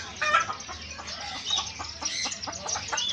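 Chicks and chickens cluck and peep close by, a busy overlapping chatter of short calls running continuously for a few seconds.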